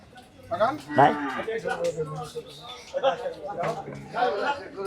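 Bulls and cattle at a livestock market on a rainy day, with several low moos and lowing calls rising through the clip, mixed with people chatting nearby.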